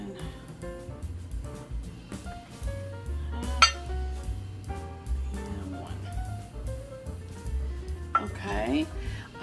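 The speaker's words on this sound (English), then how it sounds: "I always like to whisk the lumps out just real quick." A whisk beats lumps out of self-rising flour in a bowl, making quick, light clinking and tapping against the bowl over soft background music.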